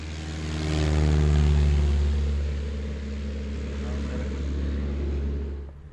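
A propeller plane starts its takeoff, a deep droning engine that swells to a loud peak, then holds a steady heavy hum before slowly fading toward the end.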